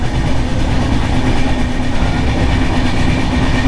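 Kerala Superfast Express running between Nellore and Vijayawada, with a steady, loud rumble of wheels and carriages that holds even throughout, unbroken by any voices.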